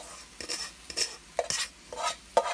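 Cooked rice is stirred and fried in a pan with soy sauce, a utensil scraping and clinking in irregular strokes over a quiet sizzle, close and fairly soft.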